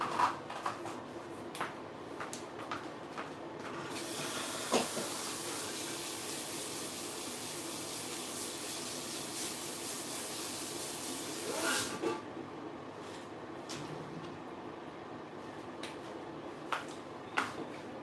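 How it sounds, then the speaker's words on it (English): A steady, loud broadband whoosh of a hood dryer running for several seconds, with faint clicks and handling noises before and after. "she's gonna go under the dryer for about 2 to 3 minutes"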